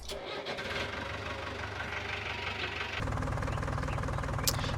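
A video game tractor engine in Farming Simulator 19 cranks and catches, then settles into a steady, knocking diesel idle that grows slightly louder and rougher, close by with no talking.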